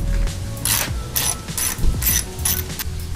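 A hand ratchet clicks steadily in quick bursts while loosening 10mm head bolts on a RAM 1500 pickup truck's hood latch, close and loud, with short pauses between strokes.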